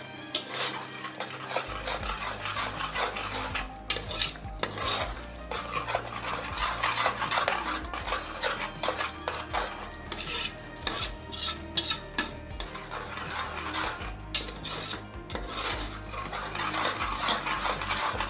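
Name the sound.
stirring channa pulao rice with curd in pot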